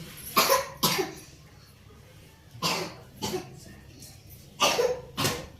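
A child coughs in three separate pairs, short harsh bursts spaced a couple of seconds apart, close by in a quiet room.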